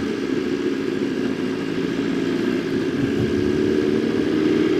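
A 2020 BMW S1000RR M edition motorcycle with a full Akrapovic GP exhaust hums steadily nearby while riding, its engine tone drifting slightly up and down under constant road and wind noise.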